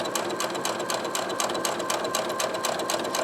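A home sewing machine stitches a fabric koozie, running at a steady close whir with rapid, even needle clatter throughout and no speech.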